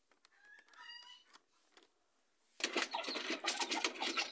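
Hens and a rooster cluck and call around a nest inside a chicken coop, a few scattered bird calls first, then a sudden louder burst of dense scratching and rustling activity close by.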